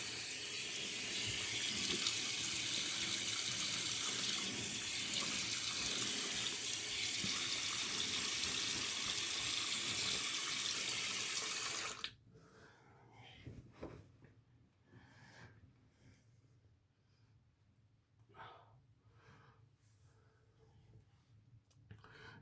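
Water runs loudly and steadily from a tap into a sink for about twelve seconds during a wet shave. It then stops, leaving faint clicks and handling sounds.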